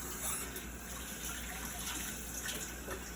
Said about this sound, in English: Alright, so we're going to turn on the faucet.